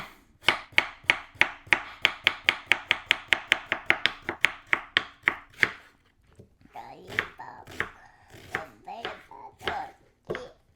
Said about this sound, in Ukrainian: Моркву нарізаємо, не кидай, не кидай, треба обсмажити отакими дольками